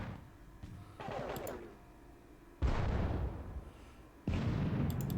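Artillery fires on enemy guns in a Salamanca battle war game: booming game-effect blasts come in separate bursts, each a sudden loud onset that rumbles and then decays, with small crackles between.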